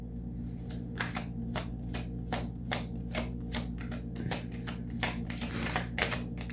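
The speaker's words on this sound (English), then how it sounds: "I forgot to shuffle" A deck of tarot cards is shuffled by hand in a steady series of crisp riffling bursts, close and fairly loud over a constant low hum, with no talking.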